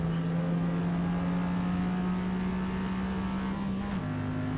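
A race car in the Forza Motorsport racing game holds a steady, droning engine and exhaust note at constant revs, then shifts to a slightly higher pitch near the end, loud and continuous.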